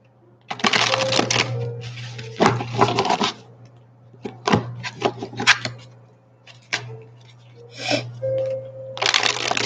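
Repeated bursts of rapid riffling as a deck of cards is shuffled, several shuffles in a row separated by brief pauses, close and fairly loud over a low hum.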